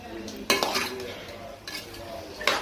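A spoon scrapes and clatters around a pan of soybean chilli, with a few distinct stirring strokes and metallic knocks over a low background hum.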